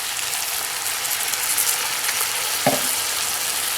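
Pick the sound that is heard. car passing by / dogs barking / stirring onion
stirring onion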